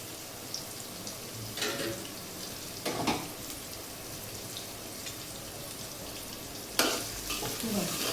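Potatoes fry in a pan in a home kitchen, giving a soft, continuous sizzle. A few brief clinks and scrapes of stirring rise above it, all at low volume and close by.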